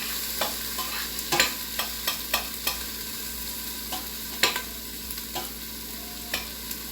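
Onions frying and browning in a pot of one-pot chili with meat and vegetables: a close, steady sizzle broken by repeated sharp scrapes and clacks of stirring at an uneven rhythm, with no talking.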